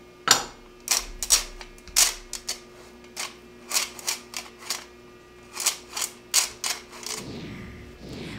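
A hand-cranked sifter works flour, baking powder and salt for macaroon cookies, giving a steady run of sharp ratcheting clicks and scrapes, roughly a dozen close, distinct bursts with no talking.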